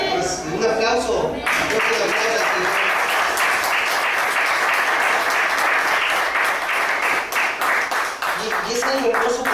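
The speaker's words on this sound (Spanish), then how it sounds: "Pues, un aplauso." A church congregation breaks into sustained, loud applause after a voice speaks briefly, with dense rapid clapping that stays steady and close, occasionally with a few louder claps on top.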